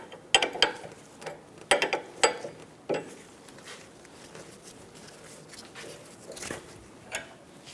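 Wrench work on the outer tie rod of a Chevrolet Sonic: sharp metallic clicks and ratcheting taps in irregular bursts, close by, with quieter gaps between them.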